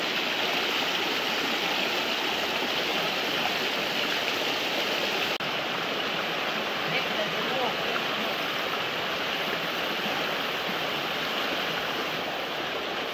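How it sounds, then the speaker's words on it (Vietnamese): A forest stream runs steadily over rocks, a constant broadband rush of flowing water that stays close and unbroken throughout with no pauses. "con suối này nó cứ nước nó lấp sấp nè, mát lắm, mát lạnh luôn"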